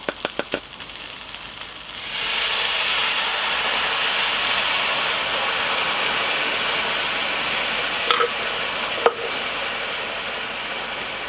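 Veggie broth mixed with orange juice hits a hot pan over rice and vegetables for quail: a few utensil clicks, then a loud, sustained steaming hiss that holds steady and close to the end.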